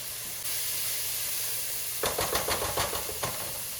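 Minced garlic drops into a pan of onions sautéing until translucent, kicking up a burst of crackling sizzle over a steady steamy hiss, with several sharp spitting pops close by.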